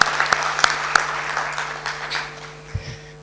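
Scattered applause from a conference audience at an international arbitration event, with a few sharp individual claps at first, then thinning and fading over a steady background hum.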